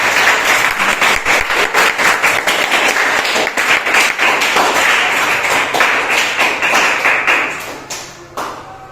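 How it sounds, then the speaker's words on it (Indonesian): Students applauding in a classroom, a burst of quick, fairly close claps with sharp individual strikes that runs for several seconds and then tapers off into a few scattered claps. "Tepuk tangan dong."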